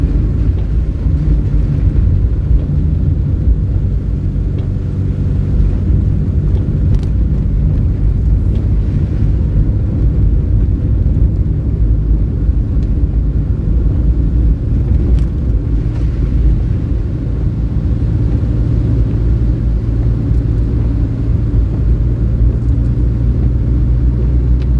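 A car drives along a wet road the day after a tropical storm in Mandeville, Manchester, Jamaica, giving a steady, close, loud low rumble of engine and tyres with wind noise and no talking.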